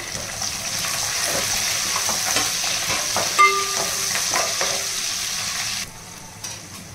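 Green chillies go into onions already frying in hot oil, giving a close, steady sizzle with stirring clatter and a brief sharp knock midway, before the sound suddenly drops much quieter near the end.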